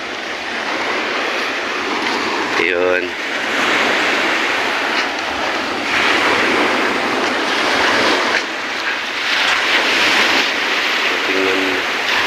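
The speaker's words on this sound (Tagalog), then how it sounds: "malaking alon talaga dito." Big sea waves break along a shore, a continuous loud wash with surging swells rising and falling, and a short word spoken over it.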